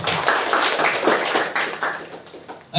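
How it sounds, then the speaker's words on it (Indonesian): Group clapping from young mosque members at a youth training session in Makassar, a dense, steady patter of many hands sustained throughout, fairly close and loud. "Tepuk tangan dulu teman-teman."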